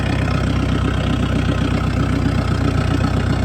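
A Sonalika tractor engine idles loud and close, making a constant throbbing diesel chug with a steady rhythmic beat and no pauses.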